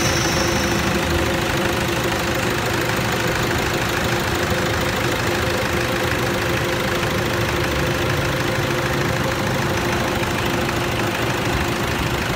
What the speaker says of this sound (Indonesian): Oke, Mi, nyalakan engine-nya.